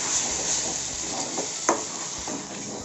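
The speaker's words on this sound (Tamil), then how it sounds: "இதே போட்டு நல்லா மிக்ஸ் பண்ணி நல்லா வதக்குவேன்" Half a kilo of prawns is mixed and sautéed in a pan for a prawn biryani-style gravy: a steady sizzle runs under occasional scraping stirs and a sharp utensil clink.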